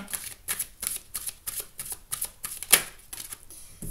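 Tarot cards shuffled by hand in a steady run of quick riffling bursts, close and crisp, ending with one louder slap as the deck settles; no voices.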